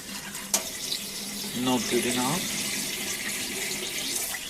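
Tap water pours steadily into a pot of Japanese rice being rinsed, a close, continuous splashing rush, with a brief swirl of water against grains partway through and a voice speaking briefly over it.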